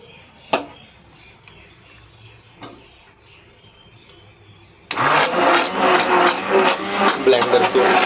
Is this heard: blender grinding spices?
yes